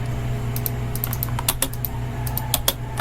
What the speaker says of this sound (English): I really need to type trim for the trim command